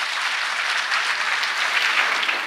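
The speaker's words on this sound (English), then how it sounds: "let's keep that applause coming and louder for His Excellency, the Vice President, Professor Yemi Osinbajo" An audience at the closing ceremony of the International Petroleum Summit in Abuja applauds: dense, even clapping, fairly loud and continuous from start to finish, with no voices over it.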